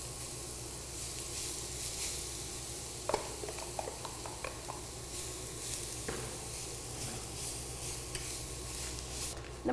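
Grated beetroot fries in a pan with a steady low sizzle, broken now and then by a few clinks and scrapes of stirring against the pan.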